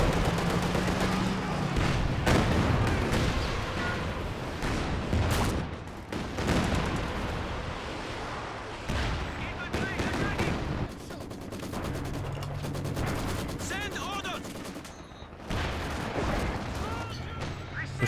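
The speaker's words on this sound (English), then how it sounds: "These walking Stuka barrages are off the charts" Walking Stuka rocket barrage in Company of Heroes 2, a dense rolling series of booming blasts and crackling detonations that runs continuously, loud and close, with a voice talking over parts of it.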